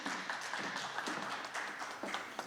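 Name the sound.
audience applause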